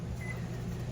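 A microwave oven runs steadily while reheating chicken wings, with a low continuous hum and an even drone that holds for the whole second. No other sounds stand out.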